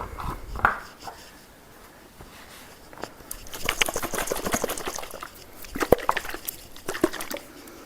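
Homemade salad dressing shaken hard in a jar, a few seconds of rapid rattling sloshing liquid with irregular knocks, starting after a quiet pause and fading to scattered taps.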